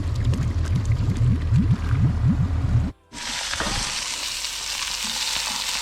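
A steak burger fries in a pan at a riverside camp at sunrise: loud, close sizzling and crackling with repeated bubbling pops, then a sudden short cut followed by a brighter, steadier hiss.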